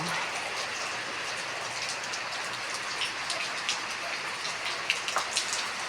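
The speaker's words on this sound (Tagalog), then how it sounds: "Ito ang ulan dito sa Laguna ngayon." Steady rainfall in Laguna, Philippines hisses continuously, with scattered drips and taps on nearby surfaces standing out now and then.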